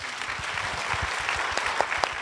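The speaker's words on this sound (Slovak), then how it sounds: "dáme jeden veľký potlesk" An audience at a talk show claps steadily in a sustained round of applause, dense and even, with a few sharper individual claps standing out near the end.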